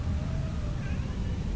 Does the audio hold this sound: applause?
no